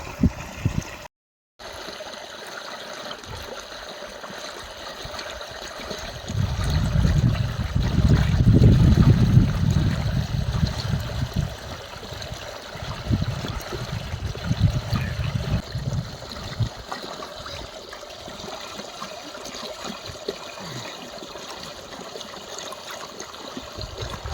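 Water runs along a farm irrigation channel, a steady trickling stream that swells into a louder gurgling rush midway before settling back, heard close by outdoors.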